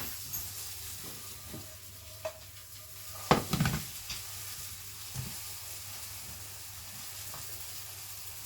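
Little omelettes fry in a pan with a quiet, steady sizzle, broken by a few scrapes and clatters of a utensil pushing the mixture around, one louder scrape partway through.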